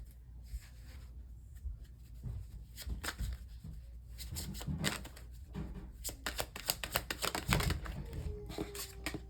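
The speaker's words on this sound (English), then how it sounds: "I might have to shuffle more." A deck of tarot cards being shuffled nearby, with repeated riffling bursts and soft slaps that quicken toward the end of the stretch, over a low steady background hum.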